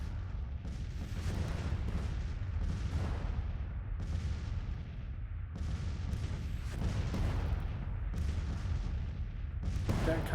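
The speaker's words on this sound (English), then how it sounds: "The 12-pound field gun or counter battery fire." Counter-battery fire from 12-pound Civil War field guns in Grand Tactician: The Civil War, a steady run of sharp cannon booms about every second or two over a dense rumbling battle background.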